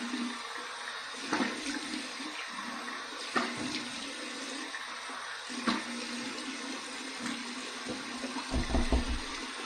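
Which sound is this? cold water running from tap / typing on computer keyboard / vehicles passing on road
cold water running from tap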